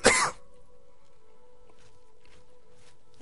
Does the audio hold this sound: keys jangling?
no